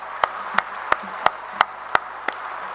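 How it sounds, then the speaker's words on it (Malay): Slow, evenly spaced claps at a speech, about seven crisp, separate strikes in a steady rhythm, sounding like only a few hands against a quiet background rather than a full ovation. "Tepukan bergemuruh juga untuk mereka."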